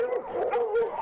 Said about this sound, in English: The dogs erupted into a nightmarish chorus of barking and howling as they began their stampede into the woods.